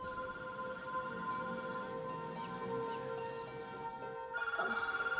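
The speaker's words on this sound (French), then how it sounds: "il devait être 7 heures quand le téléphone a sonné" A telephone rings on a Saturday morning around seven, a steady electronic tone sustained for several seconds and then switching to a pulsed ringing pattern near the end, heard alone over quiet room noise.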